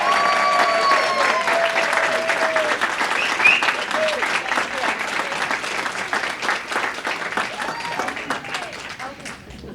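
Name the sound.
audience round of applause at awards ceremony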